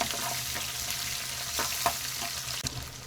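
Chopped onions sauté in hot oil for a Tamil tomato chutney, giving a steady, close sizzle with a few soft stirring scrapes and no talking.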